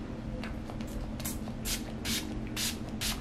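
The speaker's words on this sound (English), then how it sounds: "It's got a nice spray to it." Wet n Wild Photo Focus Natural Finish setting spray hisses in five or so short, sharp bursts, close up, over a low background hum.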